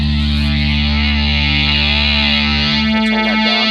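A sustained bass guitar note buzzes through a Boss synth-like modulation pedal, bright and distorted, with a warbling shimmer before the tone shifts near the end.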